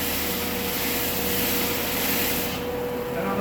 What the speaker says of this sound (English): I'm going to move it back and forth across the sandpaper.